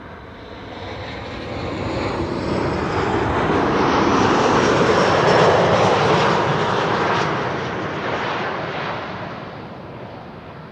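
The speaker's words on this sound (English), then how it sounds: "KLM Flight 924 is arriving next." A KLM airliner on arrival at Amsterdam Schiphol Airport roars past, a loud broadband jet rumble that swells to a peak midway and then gradually fades, with no voices over it.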